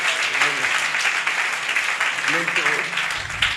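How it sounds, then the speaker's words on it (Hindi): Church congregation applauding at a prayer tower service, steady dense clapping throughout while someone speaks over it. "ये ताली बजाएं इसके लिए।"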